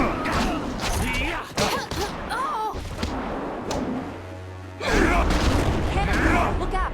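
Cannon fire in the Jade Empire video game: several heavy booms and thuds land amid a busy battle mix, with voices heard during the fight.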